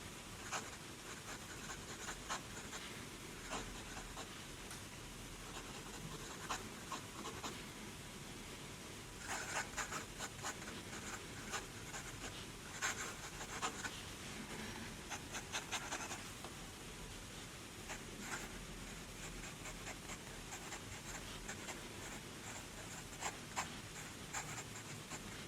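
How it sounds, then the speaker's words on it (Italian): An Esterbrook Camden fountain pen with a needlepoint fine nib scratches across paper in a quiet room, soft close strokes and small ticks repeating steadily for about twenty-five seconds. "si può scrivere con questa penna tanto nel foglio della scrivania quanto nell'agendina piccola"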